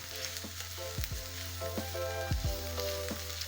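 Garlic cloves added to softening, browning onions in a frying pan give a soft, low sizzle with a few louder thumps and scrapes from stirring, quiet and close with no voices.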